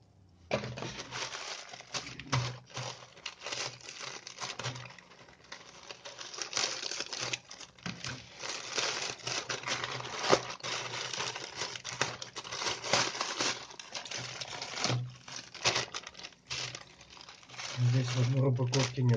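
A parcel from China being unpacked up close: steady crinkling and rustling of plastic packaging with scattered sharp ticks and taps, continuous throughout with a few louder bursts.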